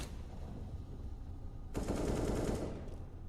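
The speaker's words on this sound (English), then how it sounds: "And the shotguns are out in full force." Shotgun gunfire in Counter-Strike: Global Offensive during a pro match, a loud burst of rapid blasts kicking in midway and running over steady background game noise.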